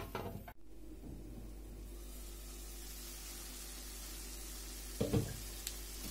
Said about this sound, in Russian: Опять закрываем крышку, обжариваем под закрытой крышкой.